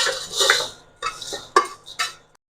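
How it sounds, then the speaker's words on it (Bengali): A metal kadai set down on an induction cooktop, a few close clattering scrapes and knocks in short bursts, then quiet. "আমি কড়াইটা বসিয়ে দিয়েছি।"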